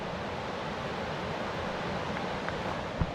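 A rushing mountain river in the Wind River Range near Green River Pass, a loud, steady broadband roar of churning water heard close by with no voices.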